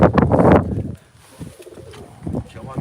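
Domestic pigeons coo close by in a bird loft, soft repeated throaty calls heard alongside someone talking.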